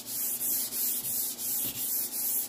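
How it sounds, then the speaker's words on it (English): Rhythmic back-and-forth sanding with a Dixie Belle sanding sponge on a painted dresser, a light pass of about eight even strokes in quick succession, close up and soft, with no voices. "I'm just using the Dixie Belle sanding sponge, and I'm just going to do a light pass."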